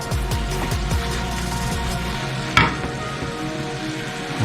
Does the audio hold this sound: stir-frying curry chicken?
yes